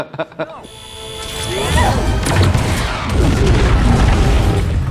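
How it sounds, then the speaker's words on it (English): A few sharp knocks, then a heavy rumbling CGI explosion from a Titanfall short film swells and sustains, thick low-end roar with crackling debris, loud and close. "I can get behind CGI explosions when they do stuff like this"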